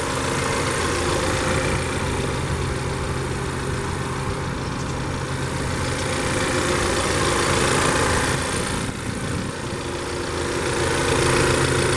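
A 2015 Hyundai Sonata 2.0T Sport with a 2-liter turbocharged GDI four-cylinder idles steadily up close, a constant low hum and mechanical whir with no revving and no talking.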